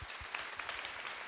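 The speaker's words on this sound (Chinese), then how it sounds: "俾掌声啊，思婷妈妈先。" Studio audience applause for a contestant's mother on a Cantonese singing competition show: a brief burst of dense, even clapping heard up close.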